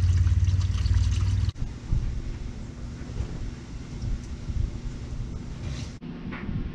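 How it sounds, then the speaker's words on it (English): Motor oil drains from the oil pan of a Chevy Cruze during an oil change, a steady close pour and trickle that runs without letup and breaks off briefly twice. "Once the oil drain comes to a drip like this"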